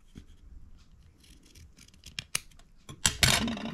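Scissors cutting close up while making a fabric-covered explosion box, a few scattered snips followed by a louder burst of crisp cutting at the end.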